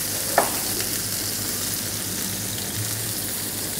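Trout and vegetables grill on a stovetop, giving a steady, close sizzle and frying hiss throughout, with one small clink near the start and no voices.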